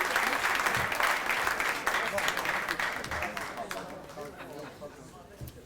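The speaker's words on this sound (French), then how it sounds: "Une bonne main d'applaudissement donc à nos ex-ADG." Audience at a 40th anniversary gala evening of a hospital foundation clapping in dense, steady applause that gradually thins and fades, with a voice audible over it.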